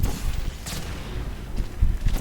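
Explosions in the video game Portal 2, played on a community-made map: two short booming bursts, the second one louder, over a low rumbling background.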